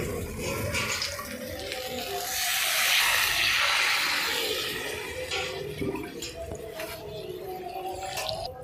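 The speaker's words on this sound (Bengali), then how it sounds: "এবার এর মধ্যে জল দিয়ে দেবো।" Water poured into a pan of spiced potatoes being cooked for aloo dum, a steady splashing rush that swells in the middle and then settles into gentler trickling, with no talking.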